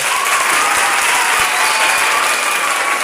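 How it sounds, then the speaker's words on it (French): Audience applause at the grand final of a school contest at Collège Presbytéral St-Paul: a dense, steady clapping that stays loud and close for the full few seconds, with no break. "Je vous demande de l'applaudir, s'il vous plaît."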